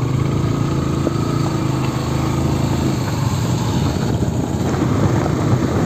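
A KTM Duke 250 BS6 motorcycle engine runs while riding, a loud steady drone with a constant low rumble throughout.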